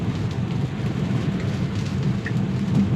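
Rain drums steadily on a Tesla driving on Full Self-Driving Beta through California rain, a dense continuous wash of patter and low road rumble with no voices.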